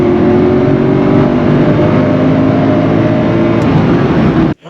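Mercedes-AMG V8 car accelerating hard, a loud, steady deep engine roar heard from on board, cutting off abruptly near the end, with no talking.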